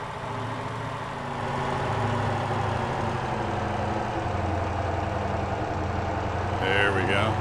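A truck engine in the driving game Motor Town, held at steady high revs with a deep droning hum that swells slightly as the vehicle pushes forward, continuous and close throughout.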